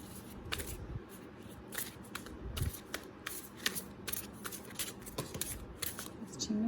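Tarot cards being shuffled by hand, a run of quick riffling flicks and papery slaps in uneven bursts, close and fairly quiet, with the cards sounding slightly sticky.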